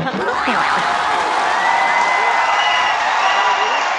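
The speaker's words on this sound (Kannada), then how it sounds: "ಏನಂತ ಚಪ್ಪಾಳಿ ಹೊಡಿರಪ್ಪ, ಯಾಕೆ?" Studio audience applause on a Kannada comedy talk show, a steady dense wash of clapping mixed with crowd murmur and light chuckles, sustained and fairly loud throughout.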